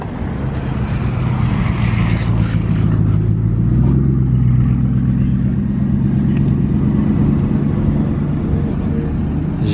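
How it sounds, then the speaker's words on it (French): A Bugatti Chiron supercar rolling past the Casino, a deep steady engine rumble with a low droning tone that stays loud and close throughout, with no voices over it. "Bugatti Chiron qui passe au Casino"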